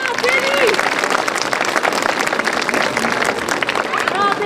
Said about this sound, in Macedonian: Може ли најпрви аплауз за жири комисијата?